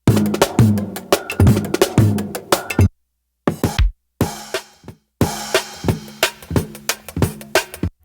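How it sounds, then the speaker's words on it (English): Punchy sampled drum loops on a Teenage Engineering EP-133 KO II sampler, with kicks, snares and cymbals in a fast jungle breakbeat rhythm, stopping and restarting abruptly in short bursts. "I found my favorite drum loops"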